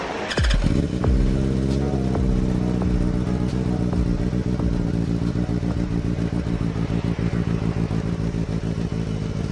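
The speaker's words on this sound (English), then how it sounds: "the sound. It's a stock exhaust." A Benelli TNT 600i motorcycle's inline-four engine with stock exhaust starts and idles with a steady, throbbing rumble, loud and near, its tone staying fairly even throughout.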